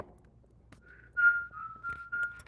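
A person whistling a few short, wavering notes nearby, thin and slightly uneven, in an otherwise quiet room.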